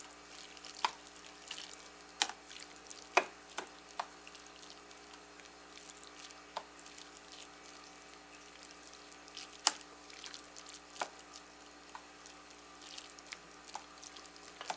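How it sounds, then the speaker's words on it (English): Hot ramen cooking water poured out into a kitchen sink, a faint steady trickle with scattered drips and small clicks, close and quiet without talk. "I always drain the water and then add the powder"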